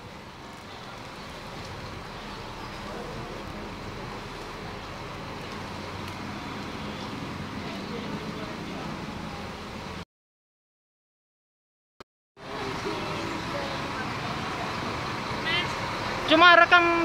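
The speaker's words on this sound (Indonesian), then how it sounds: "Cuma rekam bis Transjakarta." Transjakarta bus at Ragunan terminal in Jakarta: a continuous low engine and traffic rumble with wind, steady for about ten seconds, a brief cut, then louder engine noise resuming with a few chirping sounds at the end.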